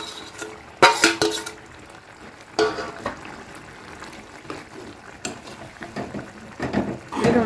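Chicken is being fried with a paste of poppy seeds and green chillies. A low background sizzle is broken by several loud bursts of crackle and spatter, with some stirring noises in between, and nobody speaks.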